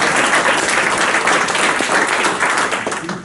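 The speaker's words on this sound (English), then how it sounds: "Let's give a round of applause." Audience applause at a live joke-telling event: a dense, steady wash of many hands clapping, loud and close, holding evenly for the whole stretch.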